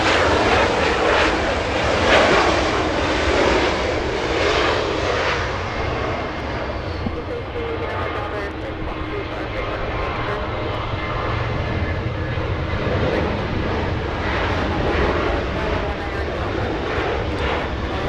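A Southwest airliner departs Los Angeles International Airport bound for Las Vegas, a loud, broad engine roar sustained throughout and shifting slowly as it passes, with talk faintly mixed in.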